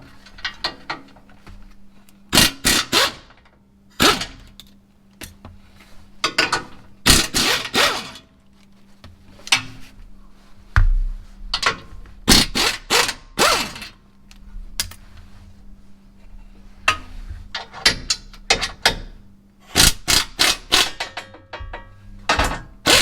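Ratcheting wrench clicks work loose the bolts on a 2024 Ram Rebel GT truck during an oil change, coming in short irregular bursts of sharp metallic clatter separated by quiet pauses.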